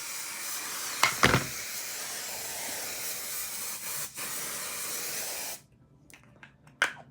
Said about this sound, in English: This is the Pantene Strong Hold Hairspray. We're gonna go all across the face, down the neck.